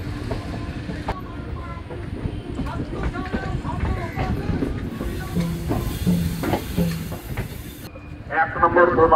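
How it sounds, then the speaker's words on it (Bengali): A train slowing as it pulls into Rampurhat Junction, a steady close rumble with rail clatter and hiss throughout, while people talk in the background. "ট্রেন দাঁড়াতে দাঁড়াতে আমরা এসে পৌঁছলাম রামপুরহাট জাংশন"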